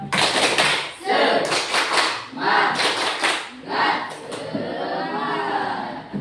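A classroom of students repeats the tepuk semangat spirit clap, sounding as crisp, rhythmic clusters of group clapping in separate bursts, mixed with children's chanting voices and a little laughter.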